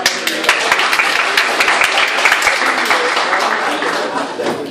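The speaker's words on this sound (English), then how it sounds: "Give yourselves a round of applause." A round of applause from members of a Toastmasters club after their speeches, steady dense clapping from a small group in a room, sustained evenly at close range throughout.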